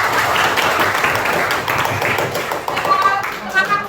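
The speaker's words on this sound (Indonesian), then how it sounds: "Tepuk semangat dulu ya." A classroom of children does a rhythmic spirit clap together, a steady run of crisp hand claps filling the room with voices mixed in.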